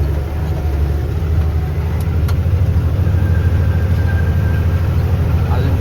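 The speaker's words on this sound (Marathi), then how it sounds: "गाड़ी बघू शकताय गाड्या कसं चालल्या" Traffic on the Khandala ghat road in a hilly pass, with a steady low engine rumble from passing cars and heavier vehicles heard close by throughout.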